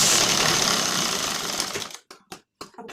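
A sewing machine stitches a folded seam on a four-tuck blouse, running in a loud, fast continuous whir for about two seconds, then stopping and restarting in a few short bursts.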